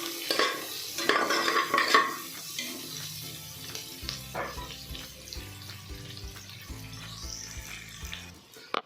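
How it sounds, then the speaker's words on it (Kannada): Sliced ingredients for bagara rice fried in oil until golden, a busy sizzle with repeated scraping stirs and clinks of a spoon against the pan, loudest at first and then steadier, with no talk. "ಗೋಲ್ಡನ್ ಕಲರ್ ಬರೋವರೆಗೆ ಚೆನ್ನಾಗಿ ಫ್ರೈ ಮಾಡ್ಕೊಳ್ಳಿ"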